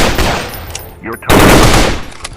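Loud, rapid automatic gunfire from a 3D mobile shooting video game fills the moment in two dense bursts, split by a brief dip.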